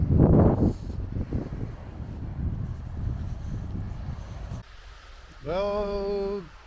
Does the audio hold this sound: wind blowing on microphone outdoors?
yes